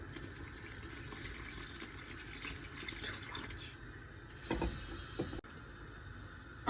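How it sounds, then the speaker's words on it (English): Cold water is poured into a pot of boiling beef and tomato dumplings, a soft splashing trickle under steady bubbling, ending with a brief louder pour and a clunk. "Once it's boiling, add cold water."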